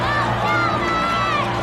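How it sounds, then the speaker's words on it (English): A stadium crowd stands and applauds, a loud, continuous mass of cheering and clapping with tonal whoops layered through it. "Inside the stadium, everyone stands up to applaud Calvin,"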